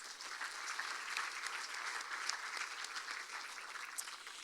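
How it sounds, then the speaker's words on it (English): Steady applause from a pageant crowd at a fall festival, dense clapping holding at an even level throughout with no pauses. "So let's give them one more round of applause."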